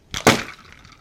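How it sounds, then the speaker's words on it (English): A sharp, sudden crunch of a can collapsing as it is upended into ice water, one loud burst followed by a brief fading crackle and hiss. "And just like that, the can is crushed."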